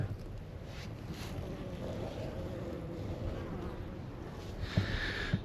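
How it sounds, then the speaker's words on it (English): A honeybee swarm clustered under a water boat gives a continuous low buzzing hum with wind-like rushing over it, steady throughout with a brief louder rustle near the end. "So these bees are underneath this water boat"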